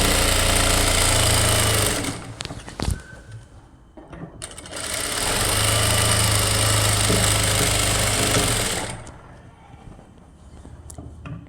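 Electric sewing machine stitching a blouse seam: two loud, continuous bursts of fast motor-driven whirring and needle chatter, separated by a short pause with clicks and handling noise, then quieter rattling at the end.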